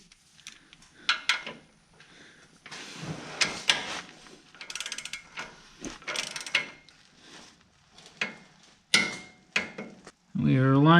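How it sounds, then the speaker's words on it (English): Torque wrench tightening the lower ball joint nut on a 3rd-generation Toyota 4Runner: a series of short metallic clicks and ratcheting clunks, close and fairly loud, irregular with pauses, ending in a louder burst. "grab your torque wrench, and we're going to be torquing this to 105 foot-pounds"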